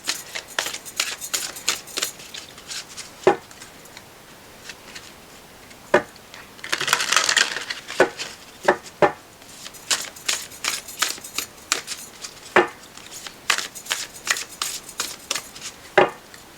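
An oracle card deck is shuffled in a series of sharp card snaps and flicks, with a longer riffling burst near the middle, close and fairly quiet, without talk.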